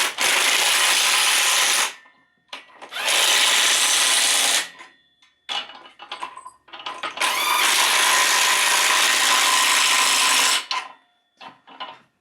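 Ratchet and socket work tightening bolts during Duramax diesel engine removal, heard as several long bursts of steady rasping clicks with short pauses between, close and fairly loud, alone without talk.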